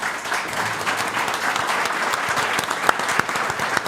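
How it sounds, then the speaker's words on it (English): A crowd claps and applauds at a live outdoor event honoring John Stewart, with thick, continuous clapping and a few sharper individual claps standing out. "Even Mike clapping"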